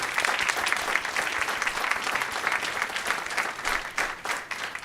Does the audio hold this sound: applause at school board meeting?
yes